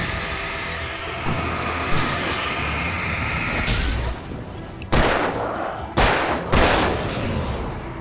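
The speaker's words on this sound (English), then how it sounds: "Flashbang!" A flashbang grenade detonates during combat in the video game Alan Wake, sharp broadband bursts standing out over a dense, noisy game mix of rumbling effects and shots, several hard hits landing near the end.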